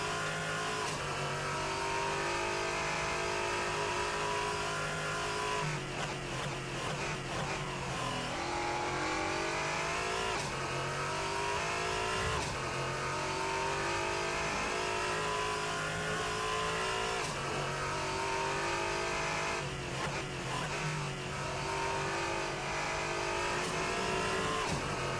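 A race car engine in the video game Assetto Corsa, droning loudly and continuously as it revs up and down through gear changes, with no talk over it.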